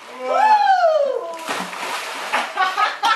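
A child jumps into a swimming pool: a high voice calls out first, then a burst of splashing and sloshing water follows, close by, with more brief voice sounds near the end.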